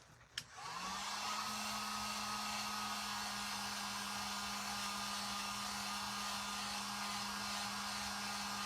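Hair dryer blowing on a burlap candy corn craft, switching on with a click and ramping up, then a steady loud whir with a constant motor hum running for several seconds, no talking.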